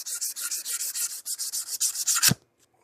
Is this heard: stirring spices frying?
no